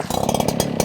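An Echo PB-9010T backpack leaf blower engine turns over during a pull start, a loud close rapid chugging putter that runs continuously without settling into a full roar.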